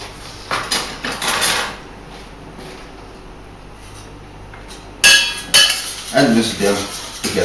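Pecorino cheese and carbonara ingredients stirred in a bowl, with bursts of clinking utensil scrapes against the dish separated by a quieter pause, fairly close and without speech.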